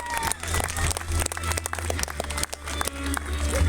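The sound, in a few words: audience applause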